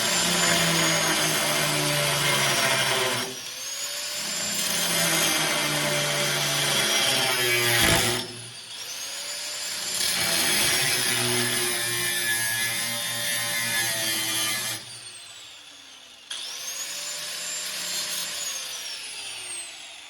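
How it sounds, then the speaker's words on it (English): An angle grinder cuts across the steel frame of a Chevy OBS truck being C-notched, loud close screeching bursts of several seconds each, with pitch dips and brief pauses between cuts. "now we'll take our grinder and cut a line across that top there"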